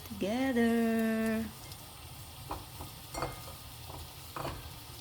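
Minced beef and pork menudo with potatoes sizzling in a pan as it is stirred together, a soft frying hiss with a few scraping bursts, preceded by a brief tonal whine at the start.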